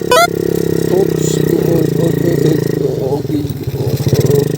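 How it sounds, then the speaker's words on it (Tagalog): A motorcycle with no brakes rides over a rough, uneven road, its mid-pitched engine droning steadily with rattling clatter and bumps throughout, close and loud. "Motor na walang preno."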